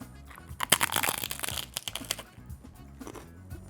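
Crunchy beef and chorizo tacos with smoky paprika bitten and chewed up close, giving a run of loud, uneven crackling crunches with no talk.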